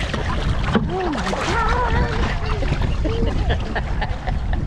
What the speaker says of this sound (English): You're not supposed to stop paddling when there's waves!